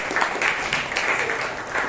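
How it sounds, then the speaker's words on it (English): A Toastmasters meeting audience applauds the upcoming speakers, a short continuous stretch of crowd clapping that is moderately loud and even throughout. "A round of applause, please, for all the upcoming speakers"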